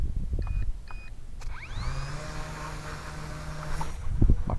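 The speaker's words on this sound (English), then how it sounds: "My prop is getting a little noisy" An Eachine P51D 500mm brushless RC warbird in flight, its electric motor and propeller winding up into a rising whine, then holding a steady buzzing drone before fading near the end with a brief wind bump.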